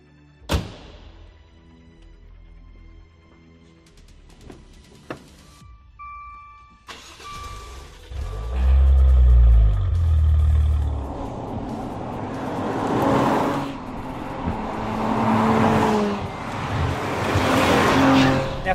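A 2018 Maserati Levante S with its 321 kW engine starts up amid faint clicks, then revs hard and accelerates away with rising engine roar and some tire noise, loud and close.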